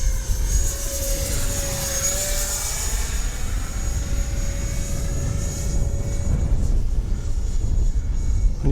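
Freewing L-39 2X radio-controlled model jet in flight, its electric ducted-fan whine steady and loud with a rising and falling pitch as it passes, over wind and outdoor noise, no talk.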